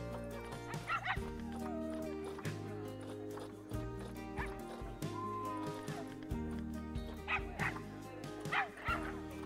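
Dogs barking repeatedly in the zoo-management video game Planet Zoo, yips and barks over a sustained layered music bed, with brief whimpers and whinny-like calls mixed in.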